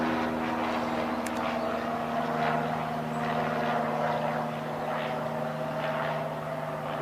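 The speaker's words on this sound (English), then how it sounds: "There's a plane going by." A propeller airplane passes overhead with a steady, droning engine hum that holds throughout, moderately distant, over outdoor background.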